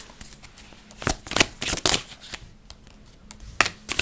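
Message cards being shuffled by hand during a card reading, a close series of quick papery riffles and flicks in uneven bursts with short pauses, no talk.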